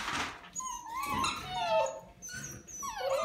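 A puppy whimpers in a string of high, wavering whines and soft yelps, close and fairly quiet, with a brief low growly breath between cries.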